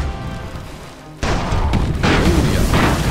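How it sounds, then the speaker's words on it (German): Cannons on airships fire in the strategy game Airships: Conquer the Skies, a heavy broadband boom erupting suddenly after a quiet stretch and followed by a second loud blast, with dense rumbling continuing throughout. "Vielleicht können wir unsere anderen Kanonen auch mal schießen."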